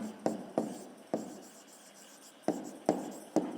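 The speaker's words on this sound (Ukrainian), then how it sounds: "а тепер записуємо відповідь" A pen writing on paper, likely an answer to a fifth-grade maths exercise, with short scratchy strokes in several separate bursts separated by pauses, close and fairly quiet, with no talking.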